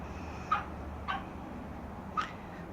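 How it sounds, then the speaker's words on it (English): Several dogs in a house bark and whine in three short, separate bursts, faint and a little distant, each followed by a quiet pause. "You hear my dogs acting like psychos."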